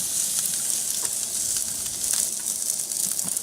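A beef steak sizzles steadily in a hot pan right after being flipped, making a loud, close, unbroken frying hiss with small pops and crackles throughout.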